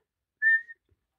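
A voice imitates a whistle with pursed lips: one short, clear, steady tone, faint and alone, followed by a brief breathy tail and silence.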